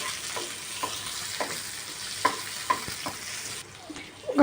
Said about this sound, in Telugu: సన్నగా కట్ చేసుకున్న పచ్చిమిర్చి ఇవన్నీ ఫ్రై చేసుకోవాలి